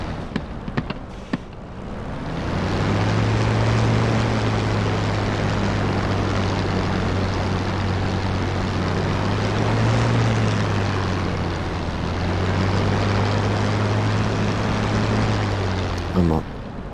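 A propeller-driven military aircraft engine in War Thunder drones steadily while taxiing toward the runway, a loud continuous low hum with slight swells, preceded by a few sharp clicks and ending in a brief knock.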